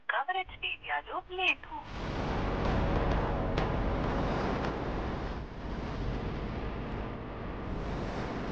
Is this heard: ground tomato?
no